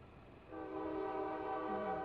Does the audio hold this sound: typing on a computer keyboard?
no